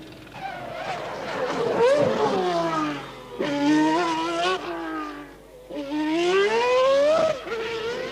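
A McLaren Honda Formula One car laps a 5.9 kilometre circuit alone, its high-revving engine wailing close and loud in three surges with rising and falling pitch through gear changes, with no talk.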